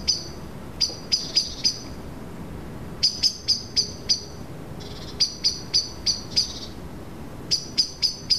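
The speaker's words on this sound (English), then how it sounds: "There are a few different birds nesting in that tree, but we can only hear the blackbirds." Birds calling from a nesting tree, bursts of sharp repeated high chirps in groups of three to six with short gaps, fairly near over quiet background.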